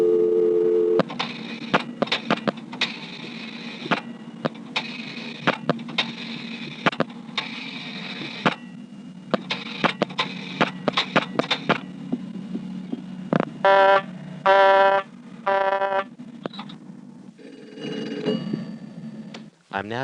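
Tones, clicks and signals from a 1973 senderized XY step-by-step telephone exchange in Dale City, Prince William County, Virginia, as a number is dialed customer-style: bursts of pulsed switching, steady signal tones and repeated beeping cadences, with brief talk.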